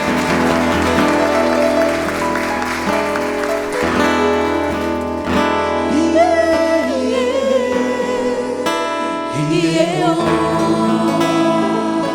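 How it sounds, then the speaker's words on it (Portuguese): Church congregation applauding during a Sunday evening Methodist service in Curitiba, steady loud clapping blended with ongoing worship music and singing throughout. "Aplauda o Senhor Jesus, porque Ele está aqui."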